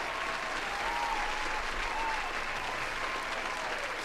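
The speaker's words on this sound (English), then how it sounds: "I'm going to give y'all a round of applause." A stock applause effect of a cheering crowd plays during a gaming stream, a steady continuous wash of clapping that stays even and fairly loud from start to finish.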